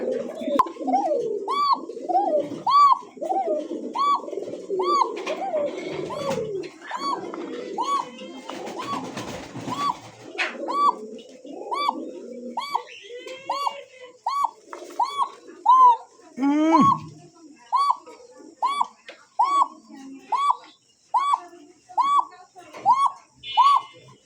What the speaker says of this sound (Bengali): কি ককার এত ডাক